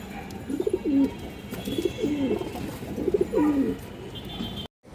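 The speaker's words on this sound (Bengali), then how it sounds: "অনেক বড় সাইজের একটা মাদি কৌতা দর্শক কালো ঠোঁটের চুইনা মাদি" A large black-beaked female pigeon coos in three low rolling phrases, close and clear, with faint ambient hiss and no talk.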